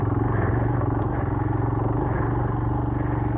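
A Royal Enfield Himalayan motorcycle climbs a dirt trail, its single-cylinder engine thumping in a steady close, loud pulsing drone throughout.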